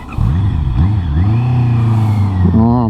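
Honda CB650 E-Clutch motorcycle pulling away and accelerating, its engine note rising in pitch through the gears, loud and close, with a sharp rev climb near the end.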